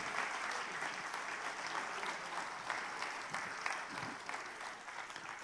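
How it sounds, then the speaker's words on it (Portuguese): A church congregation applauds to the Lord, a steady wash of clapping from many hands at moderate distance that holds evenly for several seconds. "Vamos aplaudir ao Senhor?"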